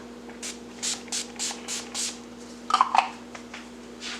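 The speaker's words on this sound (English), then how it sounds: "I use the Urban Decay All Nighter Setting Spray to keep things locked into place" Several short airy hisses of Urban Decay All Nighter setting spray misted onto a face during Halloween makeup, repeated in a quick series at close range and fairly soft, with faint handling noises in between.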